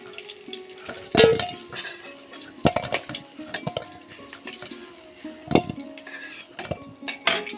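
Fried potatoes being lifted out of a kadai of hot oil, with scraping and stirring clatter, a few sharp utensil knocks against the pan, and a soft sizzle underneath.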